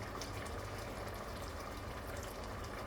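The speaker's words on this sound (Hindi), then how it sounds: "अब यहाँ पे हम ऑयल ऐड कर देंगे अपनी ज़रूरत के मुताबिक" Cooking oil poured into a pan of mutton liver (kaleji) makes a steady, continuous sizzling, hissing wash with no clear breaks and no speech over it.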